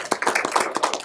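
A small group of students in an online class clap briefly, a short scatter of separate, uneven hand claps heard close and fairly faint over about a second.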